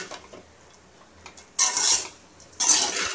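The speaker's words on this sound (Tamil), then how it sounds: "நல்லா கிளறி விடவும்." Fried rice with a fried egg being stirred in a pan: two bursts of bright metallic scraping and clinking, the first around the middle and another near the end, close and fairly loud against a quiet background.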